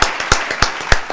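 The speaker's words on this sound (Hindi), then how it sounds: "तो करताल ताली के साथ स्वागत करेंगे गुंजन जोशी जी का" Audience applause greeting a poet at a Hindi poetry show, heard as a short burst of scattered, crisp hand claps in an uneven rhythm with no voices.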